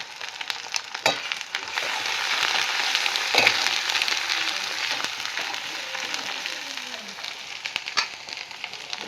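Mutton frying in a pan with turmeric and mutton masala, a steady loud sizzle running throughout with occasional sharp crackles and spoon scrapes.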